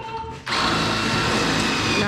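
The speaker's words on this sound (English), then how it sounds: "Not using good drill bits anymore because these pop rivets are not very good." A power drill whines loudly and steadily after a brief quieter start, drilling out pop rivets holding a spoiler, grinding continuously through metal with a harsh buzzing tone.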